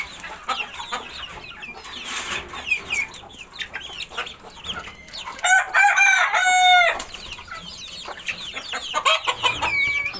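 Free-range desi chickens and chicks on a home balcony cluck and peep in short bursts, and a rooster-like crow rises clearly in the middle, all fairly close and with no talking.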